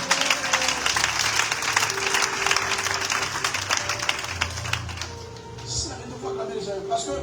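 A church congregation at a Sunday service applauds in a loud, dense wave of clapping that thins out near the end, with a sustained tone and voices mixed underneath.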